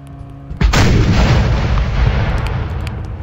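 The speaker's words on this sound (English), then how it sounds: "Cannon." A single heavy cannon blast in the Roblox game Judy booms out suddenly, loud and close, followed by a long rumbling roll that slowly fades.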